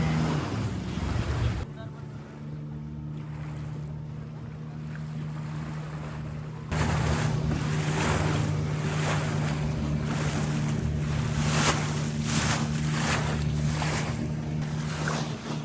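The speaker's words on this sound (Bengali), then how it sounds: "নৌকা আমাদের দুলে দুলে যাচ্ছে ধরে বস জল ছেটকাচ্ছে" A boat rocks through splashing water near a fishing harbour by a mangrove in Pondicherry, with a continuous low engine drone, wind buffeting the microphone and repeated bursts of water splashes.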